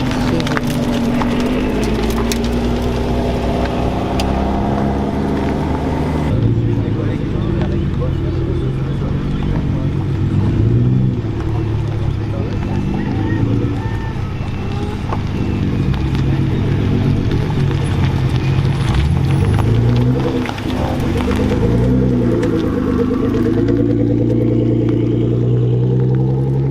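A convoy of Lamborghinis and other sports cars, including a red Lotus, rumbles past in a steady stream of engine noise, loud and nearby, with engines rising and falling as they go by.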